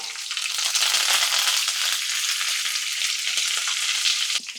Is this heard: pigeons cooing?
no